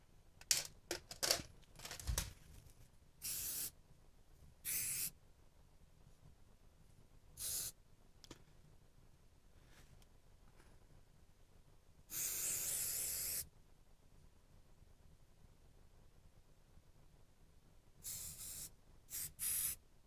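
A hand-pumped spray bottle mists hair during a one-length bob haircut, giving a series of short hissing squirts: quick clusters early, then isolated bursts, one longer spray midway, and a final cluster, with near-silence between.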